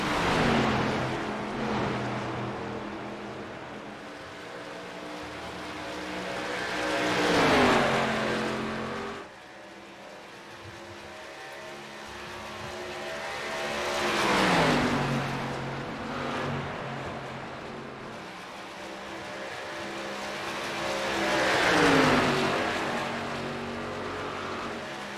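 Race cars battling for the lead on a Texas championship track, engines roaring and rising as cars pass in repeated waves, with Doppler drops between, no talk.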